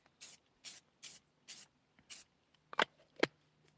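Spray paint hisses from an aerosol can in five short even bursts, followed by two sharper rattling clicks, close and fairly quiet with no voices.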